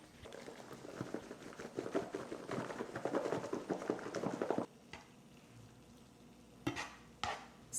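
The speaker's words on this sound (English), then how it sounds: "To our ground turkey, I'm going to be adding this taco seasoning." Ground turkey with taco seasoning being stirred in a pan, a steady scraping and sizzling patter for several seconds before it stops, then a few isolated clinks of utensil on pan.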